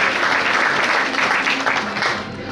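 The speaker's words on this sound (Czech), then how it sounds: "Ještě jednou potlesk pro naše nominované sportovkyně" Steady, loud audience applause for nominated young girl athletes at a youth sports awards ceremony, a dense continuous clapping wash that holds level throughout.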